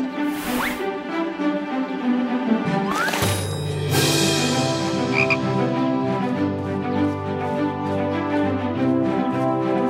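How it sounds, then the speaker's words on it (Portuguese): A cartoon frog croaks in a marshy setting in an animated children's show, clear croaks over a steady musical backdrop, with a brief rising squeak and a short swish early on. "Olhem, crianças, um sapo."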